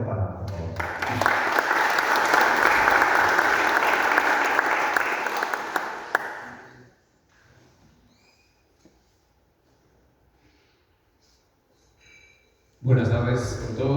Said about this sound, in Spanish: recibamos con fuertes palmas, por favor.